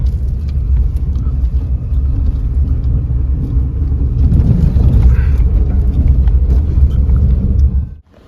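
Vehicles stuck in a traffic jam on a mountain road in Uttarakhand, heard as a loud, steady low rumble of idling and creeping engines, close by and continuous, ending abruptly.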